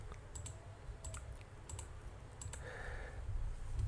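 Faint computer mouse clicks sound while the Shift key is held down during Sony Vegas video editing, a few light, scattered taps over a low steady hum, with no voice.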